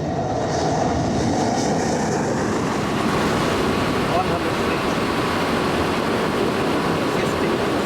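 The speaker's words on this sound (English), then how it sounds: "As Andy Barnwell steadily manoeuvres the aircraft down the glide slope" Concorde airliner descending on its landing glide slope toward Shannon airport, a steady, loud broadband jet roar that holds constant throughout with no other sounds rising above it.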